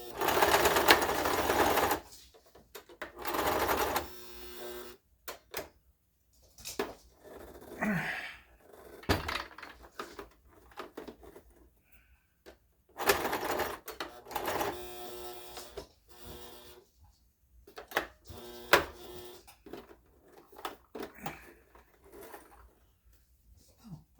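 Sewing machine running in several bursts while stitching a chewed-up dog training collar, with pauses between runs and some handling knocks, fairly close.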